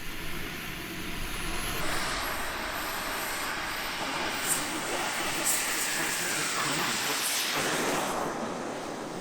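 An RC model jet aircraft making a flight pass, a continuous airy roar with a high whine that swells and shifts in pitch as it goes by, steady and moderately loud throughout.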